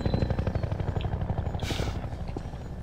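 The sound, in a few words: helicopter in a video game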